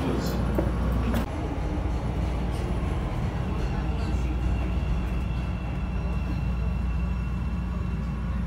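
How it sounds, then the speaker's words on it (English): A train on a Chicago line rumbles heavily and continuously close by as it stops, a steady low roar with a few sharp clanks near the start. "I love when the train stops right in front of my walk."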